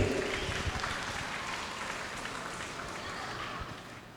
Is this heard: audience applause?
yes